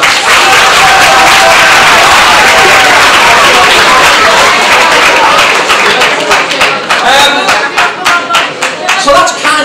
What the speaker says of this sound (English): Round of applause for our volunteer anyway.